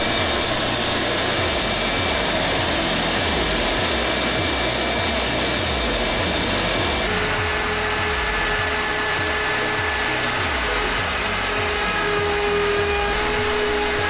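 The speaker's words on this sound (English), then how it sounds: "Next thing to do is smooth all the edges on the sander." A power sander smooths the edges of a plastic RV skylight sunshade with a loud, close, continuous whirring drone, its tone shifting slightly midway, and no voices.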